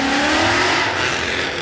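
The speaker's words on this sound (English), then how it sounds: "I don't know if you can hear me over the revving." A car engine revs hard at a crowded car meet, a loud, close, sustained roar with a rising whine and no voices over it.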